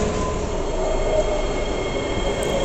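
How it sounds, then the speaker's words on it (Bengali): A Singapore metro train pulls into a station, a steady loud rumble of wheels on rail with a faint high squeal, no talking. "ট্রেন চলে আসছে। এই ট্রেনে করে আমরা যাব চাঙ্গির উদ্দেশ্যে।"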